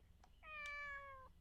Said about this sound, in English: That's a meow.